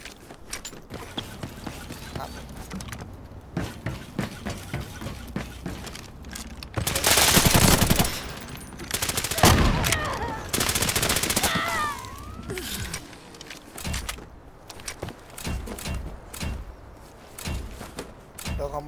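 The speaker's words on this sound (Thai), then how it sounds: "เนี่ยลองยิงดูได้ครับ เห็นปะ ปืนนิ่งเลย" Gunfire from a gun in the video game Delta Force, scattered shots early then dense bursts of rapid automatic fire in the middle, loud and close, with someone talking throughout.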